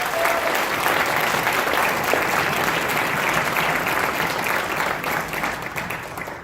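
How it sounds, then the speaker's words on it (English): An audience applauds at a school winter band concert, a dense, sustained wash of clapping from many hands that holds steady and then begins to thin toward the end. "So can we give them a round of applause,"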